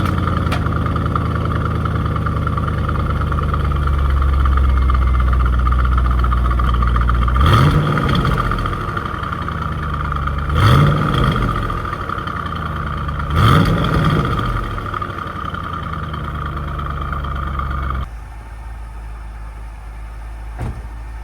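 A Chevrolet C5 Corvette V8 with a repaired exhaust idles with a deep, steady rumble, then three sharp revs climb and fall back at even intervals before the idle drops lower near the end.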